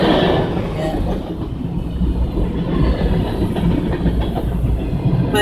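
A train rolls through a town in Puyallup, Washington on tracks running close to the roads, its steady rumble and wheel clatter loud and continuous from start to finish.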